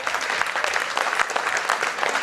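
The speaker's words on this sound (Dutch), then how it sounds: "Applaus alsjeblieft." Audience at a Dutch anniversary ceremony speech breaking into dense, steady applause, many hands clapping together without a break, near and full.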